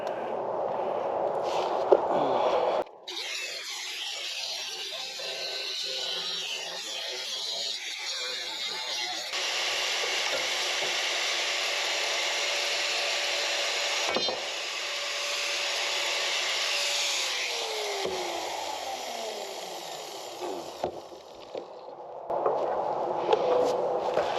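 A power tool cuts off steel angle from the dovetail of a landscape utility trailer, producing a long, steady, loud grinding hiss with brief breaks and a falling pitch as it spins down, with a little talk at the start and end.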